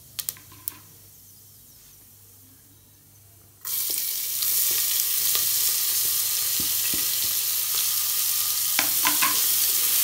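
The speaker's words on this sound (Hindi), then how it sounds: "थोड़ा सा ज़ीरा भुन जाएगा, फिर इसमें हम प्याज ऐड करेंगे।" Cumin and onions hit hot oil with a sudden loud sizzle after a quiet start, settling into steady frying with occasional stirring clicks against the pan.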